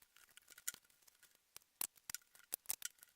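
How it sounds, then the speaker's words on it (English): Sharp, irregular snips and crunches of scissors cutting the sides off a cardboard box for a DIY phone projector, close and crisp, with quiet gaps between cuts. "So I had to cut each side of the box off and cut off about ½ an inch."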